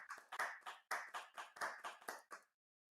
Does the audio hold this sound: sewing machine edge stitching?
no